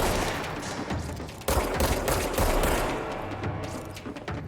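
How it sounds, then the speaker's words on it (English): Rapid gunfire from the video game Control, with dense overlapping shots and bursts running loud and continuous throughout, sharply intensifying partway through, with no voices. "He's shooting at me."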